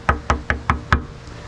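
Five sharp, evenly spaced knocks on old rusted metal at an abandoned mining town, close and solid-sounding, followed by a brief quiet.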